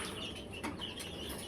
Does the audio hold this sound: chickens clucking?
yes